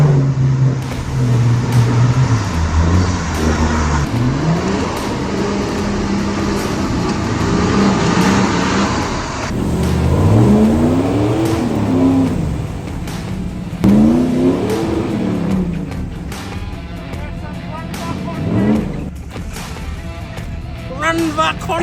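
Off-road 4x4 truck on Unimog portal axles and 38-inch tyres idling slowly through a New Zealand mud bog, its engine a steady low drone that swells in a few rising surges, with a voice talking over it.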